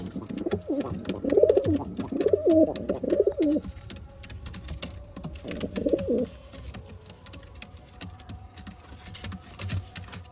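Madrasi pigeons give low, rolling coos in a few close bursts over faint background clatter, then go quieter toward the end.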